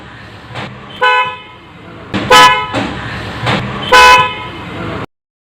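Bosch Symphony car horns, installed in place of the original horn and beside the headlamp, blare in several short, loud, tonal blasts of differing length, close by over faint background hum.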